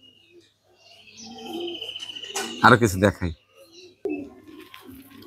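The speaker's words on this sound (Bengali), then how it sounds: "দেখেন সকালবেলা কি চমৎকার করে ডাকাডাকি করছে, বাক বাকুম বাক বাকুম বাক বাকুম।" Pigeons coo on a rooftop in the morning, soft throaty calls among faint chirps, partly under someone talking nearby.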